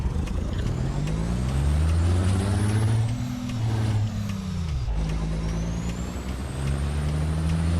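A heavy truck engine drones steadily in American Truck Simulator, loud and close, its pitch dipping and climbing as gears shift, with a brief hiss of air brakes.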